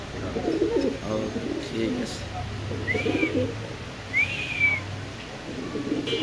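Large black fancy pigeons coo in low, rolling bursts close by, with a couple of brief whistling calls rising above a murmur of background voices.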